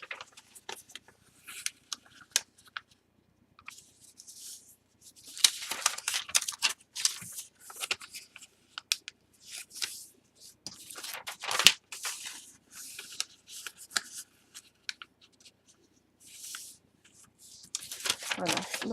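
Paper being folded by hand into an envelope, with scattered crisp rustles, creases and sliding sounds coming in irregular bursts separated by quiet gaps.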